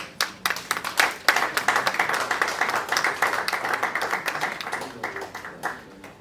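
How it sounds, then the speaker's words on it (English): An audience at a wellness institute and health app launch claps to welcome a speaker, starting with a few sharp scattered claps that swell into steady applause before thinning out again at the end. "please welcome Anthony with a big round of applause"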